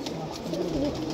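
Pigeons cooing close by in a loft, a soft throaty rolling coo rising and falling over a steady background hum.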